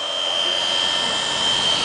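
A small toy mini helicopter flies close by, its motor and rotor producing a constant high-pitched whine with a steady buzzing hum that holds level throughout.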